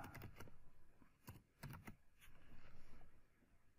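Computer keyboard typing, a short burst of quiet, close key clicks with brief pauses between strokes.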